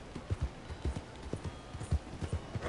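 Horse hooves clip-clopping in the video game Red Dead Redemption 2, a steady trotting rhythm of soft thuds, fairly quiet and moderately close, with no talking over them.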